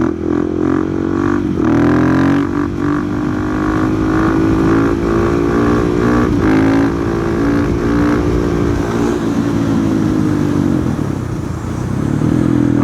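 A 2020 KTM 690 SMC R single-cylinder motorcycle engine drones loud and steady while riding, its pitch shifting with gear changes and throttle, continuous throughout with no talk.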